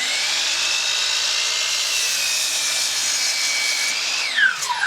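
A miter saw slices through a 4x4 wooden board in one steady, loud cut. Its high whine holds evenly throughout, then drops in pitch as the blade finishes and spins down.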